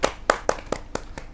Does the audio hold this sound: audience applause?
yes